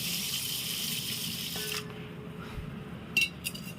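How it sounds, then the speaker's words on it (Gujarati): Water pours steadily into a vessel of rice, a close rushing stream that stops partway through, followed by a faint metallic clink and small knocks. "એમાં આપણે પાણી નાખશું"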